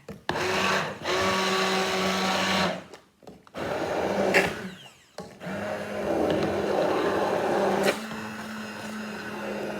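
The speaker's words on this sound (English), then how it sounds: "start to really move the blender around the bottom and get it all smooth" An immersion blender purées celery soup in a pan, its motor whirring in loud sustained bursts with a steady hum, broken by short pauses and clunks as the wand moves along the bottom of the pan.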